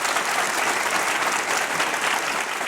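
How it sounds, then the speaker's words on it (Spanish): Steady, dense applause from a seated audience at a televised debate panel, loud and continuous throughout with no talk over it. "Creo que quieren aplaudir."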